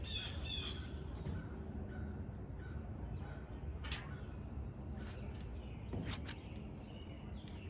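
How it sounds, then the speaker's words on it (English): Birds squawk and call outdoors in several short bursts over a steady background rumble, with no voices. "Enjoy the peaceful sounds of the birds."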